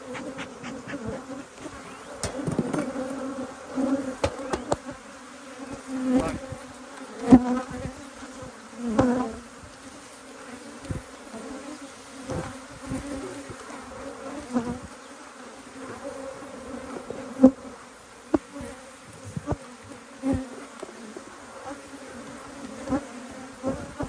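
Honey bee workers buzz around an open beehive during an inspection, a close, continuous drone that swells and fades as individual bees pass near, with no talk.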